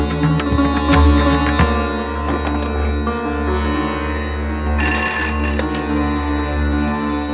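A telephone rings with a repeating electronic tone, loud and close, over a steady low background hum, with no talking.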